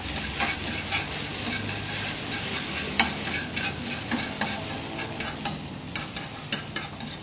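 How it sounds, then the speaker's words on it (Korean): Cucumber stir-frying in a pan for bibimguksu, a steady sizzle with frequent scraping and tapping of a utensil stirring throughout, close and fairly loud. "오이 볶아서"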